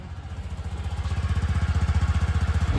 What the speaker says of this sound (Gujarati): હવે આપણે બાઇક કે એક્ટિવા તમારી જે હોય તમે ચાલુ કરી લો.